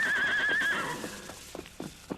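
A horse in an old Western radio drama gives a loud, wavering whinny up front, followed by the sparse clip-clop of hooves tapering off.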